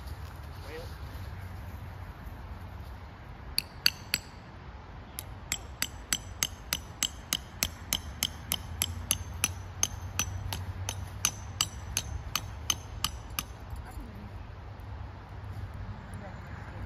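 Hammering while pitching a large Ozark Trail 12-person tent outdoors, a run of sharp metallic strikes in a fairly steady rhythm, moderately close, over a low background rumble, with people talking around it.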